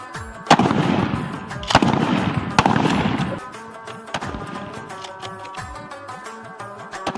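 Shots from a 30 bore pistol, a 9mm pistol and a 12 bore gun fired outdoors, several loud sharp reports spaced a second or so apart, each followed by a rumbling echo.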